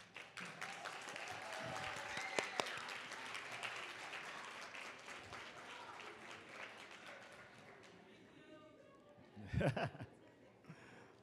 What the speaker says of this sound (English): express with a resounding applause your sincere appreciation for everything that everyone has done to help you